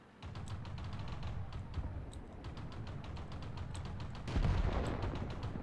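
Rapid bursts of gunfire from a Tetrarch light tank in World of Tanks, rhythmic sharp reports repeating steadily, then a heavier, louder blast near the end over a rumbling engine bed.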